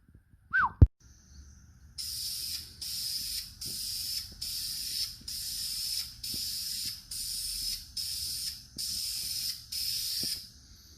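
Spray paint is applied in coats to a cleaned car slave cylinder over old paint and bare metal. After a brief squeak and click, about nine short, even hissing bursts repeat in a steady rhythm with small gaps between them, close and clear.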